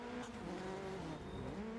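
A rally car in DiRT Rally 2.0 on a rallycross circuit, its engine giving off a thin, squeaky whine that rises and falls steadily, loud and close throughout with a light hiss of tyres.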